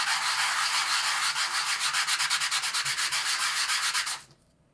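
A piece of baked cookie is rubbed back and forth against an abrasive surface, giving close, loud, regular scraping strokes that speed up before stopping.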